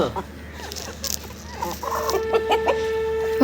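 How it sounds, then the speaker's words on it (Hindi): Chickens clucking nearby in short repeated bursts as they are fed grain, with a longer drawn-out call from a rooster toward the end and light background noise. "मुर्गों को दाना डाल रही है"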